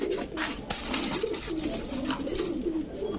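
Stencil Lahori fancy pigeons at a pigeon farm cooing, soft repeated throaty coos in a steady pulsing rhythm, close by, with faint background chirps and ambient noise.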